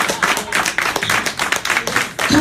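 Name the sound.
congregation clapping hands in church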